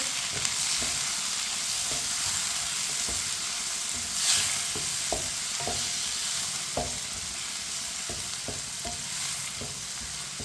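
Chopped tomatoes and green chillies fry in a pan with a steady broadband sizzle, while a spoon stirs and taps the pan in irregular knocks throughout; no one speaks.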